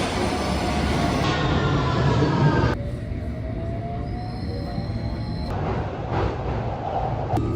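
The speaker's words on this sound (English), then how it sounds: "this is the northbound Victoria line to Seven Sisters" A northbound Victoria line Underground train at Finsbury Park roars loudly, then the sound drops to a lower hum as rising electric motor whines and high squeals come through. A sharp bang follows near the end.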